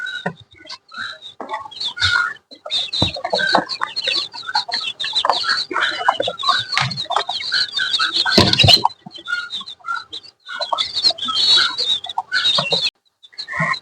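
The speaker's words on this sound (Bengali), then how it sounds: "এই যে আমার মুরগিগুলা দেখতে পাচ্ছেন" Local deshi chickens kept in a cage, clucking and cackling in busy, overlapping bursts, loud and close, with one sharp squawk near the middle and brief pauses between calls.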